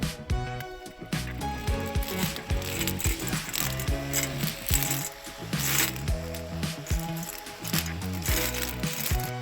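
A small-motor pigeon pea plant top-cutting machine runs continuously in a field, giving a loud, close, whirring and clattering mechanical drone with uneven rhythmic pulses.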